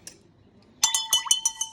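Metal spoon stirring and clinking against a glass cup of water tinted with food coloring, a rapid run of about eight bright ringing taps after a quiet start, close and alone.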